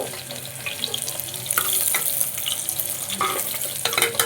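Onions frying in a pan for a breakfast tomato bath, a close, steady crackling sizzle with a few brief stirring clatters, no talking.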